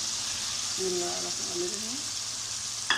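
Okra fries in a pickle masala, producing a constant close sizzle; a person speaks briefly over it partway through.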